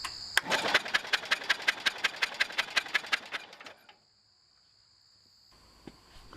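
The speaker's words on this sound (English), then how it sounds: "I changed the battery so the engine will crank properly." John Deere 110 lawn tractor engine cranking over with its starter-generator, a rapid even chugging of about fifteen beats for three seconds, then stopping into near silence with faint hum.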